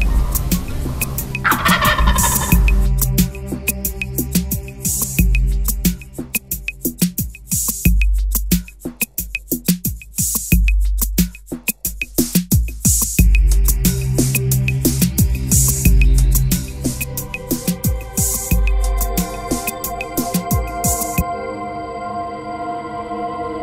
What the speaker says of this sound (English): got an opportunity to have this gobbler find that hen